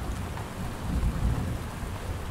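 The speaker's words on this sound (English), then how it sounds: "The rain is still light," Light rain patters steadily around a tent while low thunder rumbles in the distance, a dense, even wash of drops with a deeper swell near the middle.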